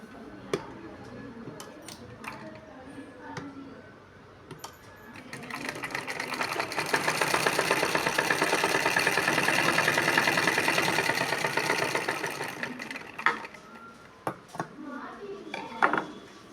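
A sewing machine stitches a blouse dart in one steady run of about seven seconds, loud and close, framed by quieter handling clicks and taps of fabric and tools before and after.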